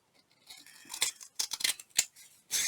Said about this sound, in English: by holding my scissors kind of at an angle as I'm cutting